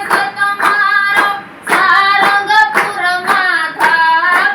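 Rhythmic hand claps keep steady time beneath a sung Gujarati devotional bhajan to Hanuman, with sharp regular beats cutting through the melodic voices.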